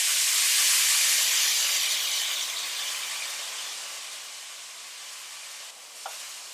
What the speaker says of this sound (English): Once the wok is hot, we're going to add in our minced lamb.